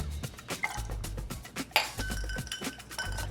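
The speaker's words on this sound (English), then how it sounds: "add 1 more ice cube" Ice cubes clink and rattle against a glass while a Negroni of sweet vermouth and Campari is built, with repeated bright chinks and knocks, one sharper ring near the middle, close and fairly loud.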